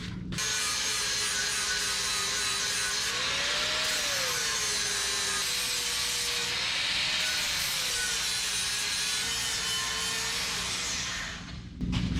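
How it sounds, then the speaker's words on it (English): An angle grinder grinds down the welds on a lowering block from a 1967 Pontiac Firebird. It makes a continuous loud, harsh whine for about twelve seconds, and the pitch dips and rises as pressure on the metal changes. Nobody speaks. "Let me grind these welds down."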